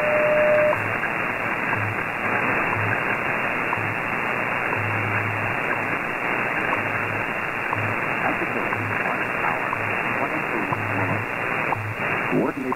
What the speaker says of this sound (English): I try to tune in WWV to what sounds like zero beat on slice A, and I unmute slice B.